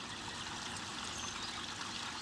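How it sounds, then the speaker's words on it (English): A finished garden water feature trickles steadily, a continuous close splashing flow of running water with no voices over it. "my water feature was finished"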